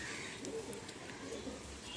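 A caged pigeon gives soft, low cooing against a muffled background of rustling and faint voices, the calls close but quiet and blending into the murmur.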